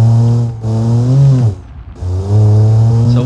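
A 25 horsepower two-wheel-drive three-cylinder sports car in BeamNG, driven off-road, hums loudly up close, rising in revs, dropping out briefly when the throttle lifts, then droning steadily again.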